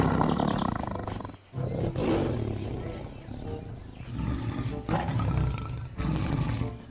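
A toy tiger gives off loud tiger roars in several long bursts, separated by short pauses.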